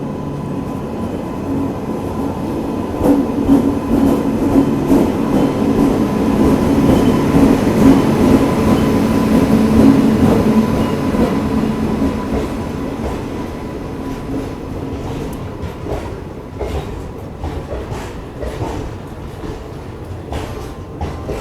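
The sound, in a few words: train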